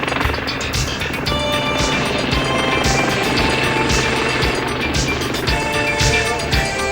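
A Sea King helicopter flies while formating with a warship for in-flight refuelling, its rotor beat and turbine whine loud and continuous, with periodic sharp blade slaps.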